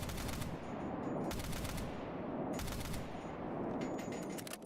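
Full-auto rifle fire in STALKER GAMMA, four loud close bursts of rapid automatic shots separated by short pauses, each ringing off into a reverberant tail.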